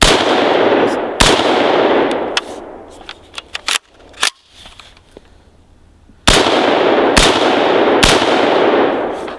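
An ARAK 21 XRS rifle fires a string of loud, sharp shots outdoors until the magazine runs empty, with uneven gaps between shots and a brief quieter pause partway through.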